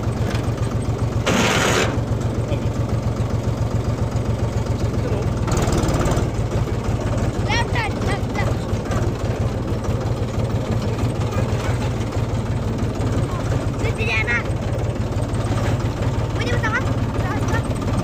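Tractor engine running at a low, steady chug, close by and continuous, with people talking over it throughout.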